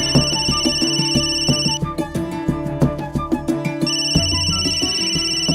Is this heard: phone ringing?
yes